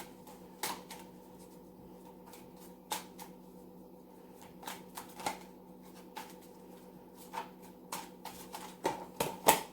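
Tarot cards shuffled by hand indoors, a run of crisp riffling snaps and soft slaps as cards spill and fall, scattered irregularly over a quiet low hum, no talking.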